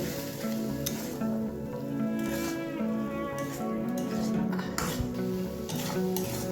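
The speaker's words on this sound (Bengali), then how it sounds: "সবটাকে খুব ভালোভাবে এবার কষিয়ে নেব।" Spice paste of chilli powder and turmeric with a little water, stirred and sautéed over high flame in a pan: a steady sizzle broken by repeated clinks and scrapes of a spoon against the metal.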